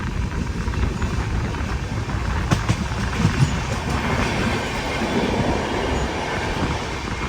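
Ala Hazrat Express sleeper train running on rails in Gujarat toward Adipur, a loud, steady rumble and roar heard from inside the carriage, with faint rhythmic wheel clatter throughout.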